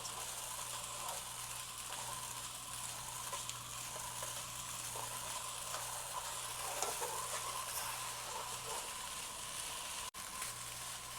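Coconut milk mixture for maja blanca stirred in a pot, a steady, close scraping and swishing with a low hum underneath, continuous for the whole stretch with a brief dropout near the end.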